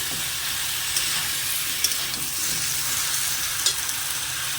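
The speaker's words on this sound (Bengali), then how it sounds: "আলাদা করে কষলাম না একসাথে দিয়েই কষে নিচ্ছে" Malabar spinach and other vegetables stir-fried with spices in a pan give a steady close sizzle, with a few soft scraping stirs throughout.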